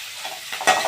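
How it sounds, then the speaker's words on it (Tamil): Fresh curry leaves hit hot oil in a pan while sautéing for a Tamil home-cooked meal, giving a short, sharp burst of crackling sizzle. "ஒரு கொத்து வந்து கருவேப்பிலை சேர்த்துக்கிறலாம். நல்லா வதங்கட்டும்."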